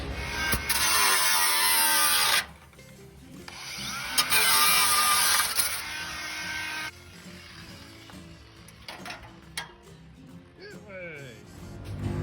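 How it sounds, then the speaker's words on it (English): A power drill bores out spot welds on a car body panel at the bench, with two loud bursts of whining drilling followed by quieter scraping and clunks, and a voice briefly in the background. "get the bit I want on the bench and get into these spot welds"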